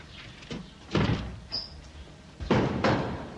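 Guardia Civil officers pounding on a door: a few heavy, irregular thuds and bangs against the wood, spaced apart, fairly close in a quiet room.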